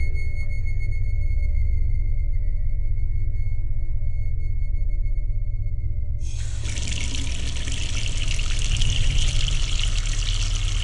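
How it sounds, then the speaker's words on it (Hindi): Water runs from an old tap in a haveli mansion: a steady low rush that suddenly opens up into a louder, hissing gush partway through, continuing without pause and with no voices. "अच्छा हुआ इस हवेली के नल में अभी भी पानी आता है।"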